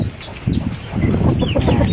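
A wild chicken clucks in short, loud bursts close by, with farmyard background noise on a rural farm.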